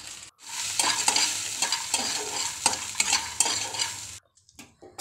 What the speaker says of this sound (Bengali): ওই একই কড়াইতে আমি ডালের বড়িগুলো ভেজে নেব